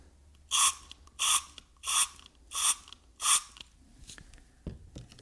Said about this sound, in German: wenn wir jetzt fünfmal hier sprühen